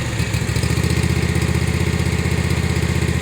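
Close, loud engine of a Cutting Edge RC CE52T remote-control mower, a fast, steady chugging pulse with a rough low rumble, running without pause and with no talking.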